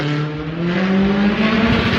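A 300 bhp Abarth 124 Spider rally car engine roars loudly past, its high-revving drone steady and close, with a rising and falling pitch as it speeds by.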